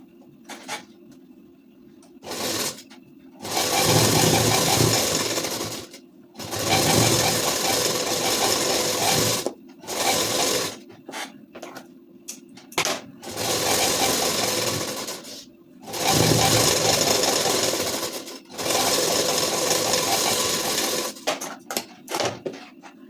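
A sewing machine stitches a ladies' suit in repeated runs of steady, loud whirring and clatter lasting a few seconds each, broken by short silent pauses.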